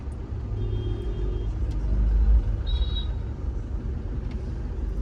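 Interior rumble of an Isuzu D-Max pickup truck on the move, a steady low engine and road drone with brief faint squeaks, close and continuous, with no talk.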